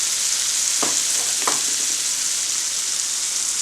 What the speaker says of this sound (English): Let that sizzle and get good and caramelized on one side